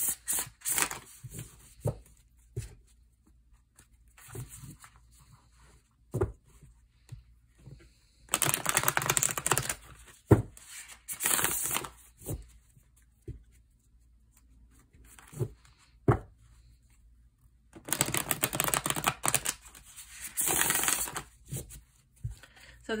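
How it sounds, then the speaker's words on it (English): A deck of tarot cards is shuffled by hand: two sustained bursts of papery riffling stand out between quieter stretches of soft taps and handling noise, close and alone. "So this is a very well shuffled deck"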